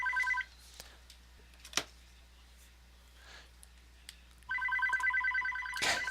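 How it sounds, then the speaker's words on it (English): A telephone rings in the background during a Modern-format Magic: The Gathering match stream at NRG, with a short double-tone burst at the start and a longer ringing stretch near the end over a quiet room. "Got a phone going off in the background here"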